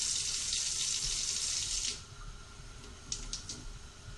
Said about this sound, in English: now we're going to get some hot water